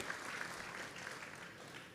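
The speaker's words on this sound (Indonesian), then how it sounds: "Kasih tepuk tangan yang terbaik." A church congregation claps steadily during a sermon, a faint, distant patter of many hands continuing for two seconds without pause.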